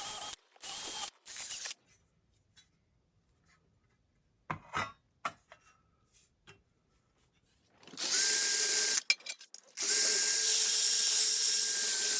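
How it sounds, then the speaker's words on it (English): An electric drill whirs loudly in two bursts while drilling out screws on 1964 Suzuki K10 motorcycle parts, first briefly, then a longer sustained drilling, separated by quiet clicks and handling noises. "put in a small hole, try and drill out these"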